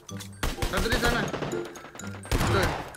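Gunfire bursts in PUBG Mobile, a squad battle-royale match in a warehouse area, crackle in dense volleys under excited talk from players across the whole stretch.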